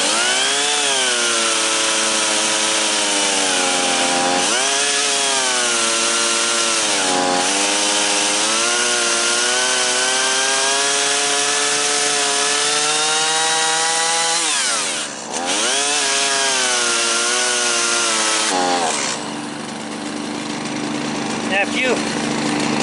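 Chainsaw cutting through a fallen log among forest slash, the engine holding a loud, sustained whine close by that shifts pitch as the chain bites and eases, with a brief dip and a change in tone near the end.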